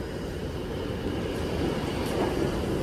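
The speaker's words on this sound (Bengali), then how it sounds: "দেখুন আরেকটা মেট্রো আসছে এদিকে" A New York subway train approaches a station with a steady, heavy low rumble that builds slightly toward the end, continuous throughout with no voices.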